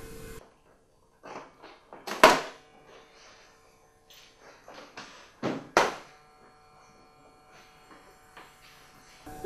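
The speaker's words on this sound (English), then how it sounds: "I'm going to go ahead and open this Pinnacle wood rack." Packaging of a Pinnacle wood rack being opened, close crinkles, tears and sharp rustles in scattered bursts with quiet gaps between them.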